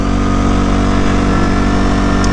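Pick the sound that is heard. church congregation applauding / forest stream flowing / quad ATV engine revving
quad ATV engine revving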